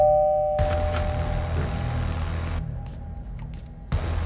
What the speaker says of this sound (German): Mal klingeln vielleicht?